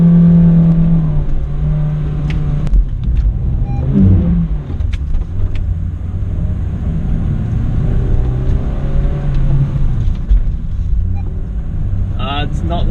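A Honda Jazz/Fit driven hard on a motorkhana run, the engine revving and droning close with rising and falling pitch as it accelerates and turns, while a voice talks over it at points.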